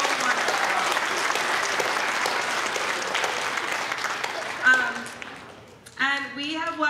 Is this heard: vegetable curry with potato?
no